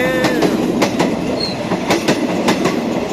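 An Alsthom locomotive hauling a Bangkok–Nakhon Sawan train rumbles past close by at the Yommarat level crossing in Bangkok, wheels clacking rhythmically over the rails with a brief squeal, loud and steady throughout.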